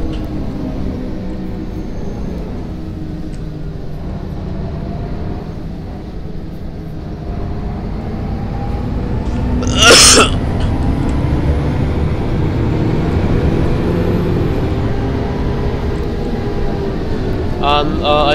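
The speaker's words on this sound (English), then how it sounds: "this bus has got a 6-cylinder engine. I think it's probably Cummins engine." Loud, steady drone of a 6-cylinder Cummins bus engine with a Voith gearbox in the OMSI 2 bus simulator, with someone talking over the engine noise.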